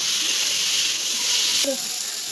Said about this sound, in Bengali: এবার দিয়ে দেবো কেটে রাখা টমেটো। টমেটোর সাথে আর একটু ভালোভাবে কষিয়ে নেব।